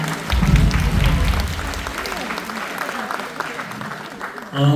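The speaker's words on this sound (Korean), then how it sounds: "큰 박수로 환영해 주시기 바랍니다." Crowd applause in a convention hall at a party rally greets the acting party leader, strong at first and tapering, with voices over it and a burst of noise at the close.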